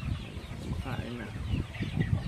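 Chickens cluck and murmur close by in a busy, irregular chorus, with a voice faintly mixed in.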